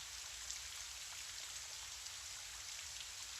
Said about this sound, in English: I'd like to invite you to continue breathing while listening to the rain.